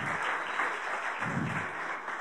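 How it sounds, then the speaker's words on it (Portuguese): Church congregation applauding, a full, even patter of many hands clapping at moderate volume, continuous and unbroken with no talk over it. "Uma salva de palmas"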